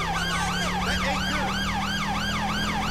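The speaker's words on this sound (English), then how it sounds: "Putting my lights and sirens on" A police car siren from a Met Police Ford patrol car in the GTA 5 LSPDFR video game wails in steady, repeating up-and-down sweeps, loud and close over a low engine hum, with no talking.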